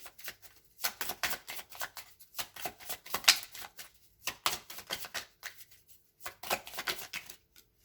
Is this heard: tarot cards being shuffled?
yes